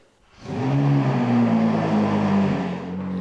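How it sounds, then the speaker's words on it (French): A Ferrari 458 pulls out of its garage bay, engine rising from quiet into a loud, steady close-up drone with shifting tone, then easing slightly at the end. "La Ferrari F458 sort du box pour se rendre sur le lac gelé à 5 km"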